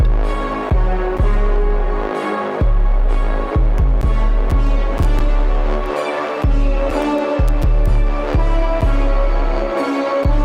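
A heavily distorted trap beat with booming low kicks and sharp, crunchy hits, no voices, loud and continuous.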